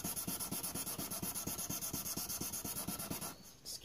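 A knife blade is sanded and polished by hand in quick, even back-and-forth rubbing strokes, steady and close, with no talk.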